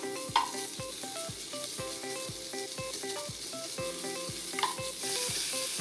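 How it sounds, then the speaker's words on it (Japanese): Pork pieces browning in a hot frying pan for fried rice give off a steady, continuous sizzle, with rhythmic background music playing underneath. "今このサイズなんですぐ火は通るんですけど、焦げ目つけてあげてその後にお醤油入れてあげた方が焦げ目に味が入りますね"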